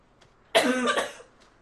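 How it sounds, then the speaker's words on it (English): A single short, sharp cough sounds close by in a quiet scene from the video game Dragon Age 2, with faint background hush before and after. "You sure you're okay? You're coughing a lot."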